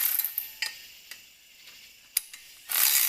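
Manual ratchet tightening an engine mount bolt during an LS engine swap into a Firebird, a few sharp clicks and short ratcheting bursts with pauses, close and fairly clear.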